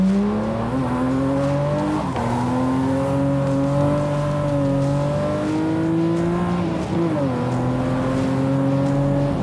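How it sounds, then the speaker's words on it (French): A BMW M3 E36 with a 3.0-litre engine revs hard on a wet road, its steady, loud, close harmonic drone rising and falling with throttle changes, dipping briefly around gear shifts before climbing again. "le son d'une M336 3 litres les amis"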